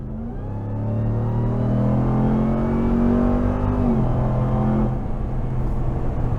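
A Ram TRX pickup with added boost accelerates hard on a closed road, its engine rising in a loud sustained roar with climbing pitch, then a gear change and steady high-rpm drone.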